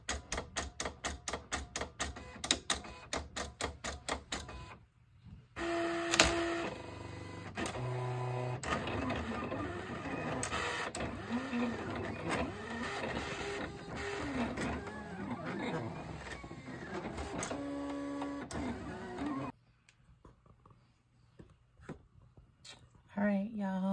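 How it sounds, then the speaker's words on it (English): A vinyl cutting machine cutting out a traced image: rapid mechanical ticking and whirring stepper-motor passes, with buzzing tonal whines that shift pitch as the cutter moves, broken by short pauses and a near-silent stretch near the end. "I'm going to send it to the machine, and hopefully this time around it cuts properly without sliding all over the place"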